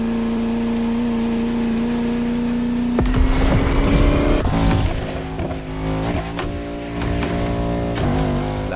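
A Bugatti La Voiture Noire engine in The Crew Motorfest idles with a steady hum, then revs hard as the car accelerates, its pitch climbing and sweeping through gear changes, close and loud.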